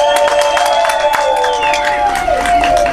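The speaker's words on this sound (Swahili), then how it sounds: "Makofi kwa Dr. Samia." An audience claps and cheers at a prison vocational college graduation ceremony, steady applause with a sustained tone running beneath it.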